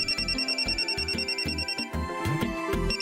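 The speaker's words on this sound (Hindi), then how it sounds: "प्रिया का फोन" A phone's electronic ringtone repeats a bright melodic pattern in a regular pulsing rhythm, fairly loud and close, with no voices over it.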